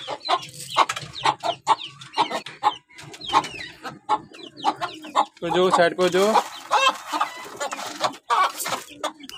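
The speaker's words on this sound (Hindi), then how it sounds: "ये बेचारी मुर्गी कब से बोल रही है।" A hen clucks repeatedly and insistently close by, with a few louder squawking calls, while a person talks over it.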